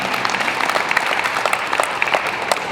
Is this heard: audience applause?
yes